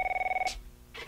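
A telephone in a radio drama rings with a fast, trilling electronic bell for about half a second, cut off abruptly, followed by two soft breathy noises and no talking.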